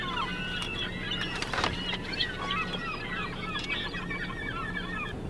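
Seagulls call in a busy outdoor flock, with overlapping squawks and cries scattered through the whole stretch over a steady low background hum, moderately close and continuous.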